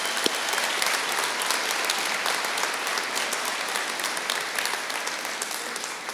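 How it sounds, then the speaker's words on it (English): A crowd applauds graduates at a career and technical school recognition ceremony. The clapping is sustained, dense and fairly loud, filling the hall evenly from start to finish. "Let's give them another round of applause for their achievements."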